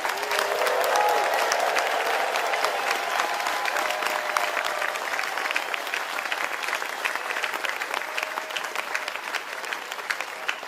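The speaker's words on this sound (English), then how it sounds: "a last round of applause for our newest citizens today" A crowd at a Seattle naturalization ceremony gives a final round of applause for new US citizens, loud dense clapping that holds steady and tapers slightly toward the end.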